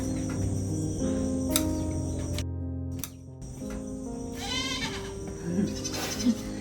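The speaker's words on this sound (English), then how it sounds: "You can hear the goats back there hollering for me." Several goats bleat from a distance, a few short calls rising over steady insect chirring and outdoor background noise.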